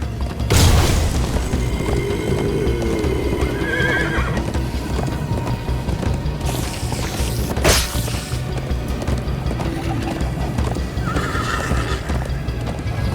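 A horse in the Minecraft Story Mode video game gallops with rapid clip-clop hoofbeats and whinnies, loud and continuous over a dramatic game soundtrack with booming impacts.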